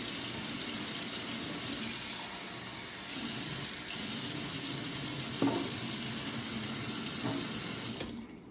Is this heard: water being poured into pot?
yes